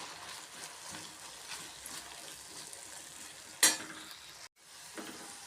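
Lady's finger pieces sizzle in coconut oil over a low flame. A close, steady crackle of frying runs throughout, with a spoon stirring and a sharp metallic scrape partway through.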